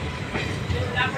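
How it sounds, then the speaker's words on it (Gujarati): A passenger train pulls out of Sanosara station on the Dhola to Bhavnagar line, heard from on board as a low, steady rolling rumble with a voice talking over it. "આપણી ટ્રેન નીકળી ચૂકી છે સણોસરા સ્ટેશનથી"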